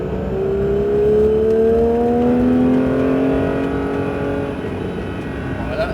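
A Porsche 911 GT3 accelerates on a race circuit, its engine note loud and rising steadily through the revs, with a voice speaking over it.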